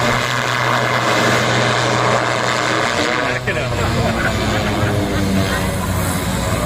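Draco, a STOL bush plane, passes at Livermore airport during an AOPA STOL event, giving a loud steady propeller and engine drone that stays constant throughout with a slight shift midway, and voices are heard over it.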